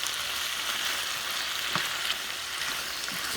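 Beef and broccoli stir-fry sizzling in a pan over medium heat, a steady close frying hiss with a few soft knocks of stirring, continuous and fairly loud, with no talking.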